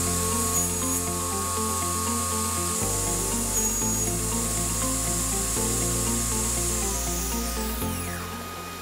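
A DIY table saw cutting a small piece of MDF on a crosscut sled, a loud steady motor whine with shifting tones as the blade bites, fading slightly at the end.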